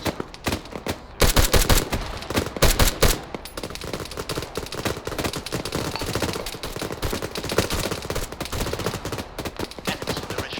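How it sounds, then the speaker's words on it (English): Sustained gunfire in a military video game, with loud bursts of automatic fire and scattered shots rattling continuously near and far, heavier volleys up front and a steady barrage of crackling rounds throughout. "Fire coming in from the right."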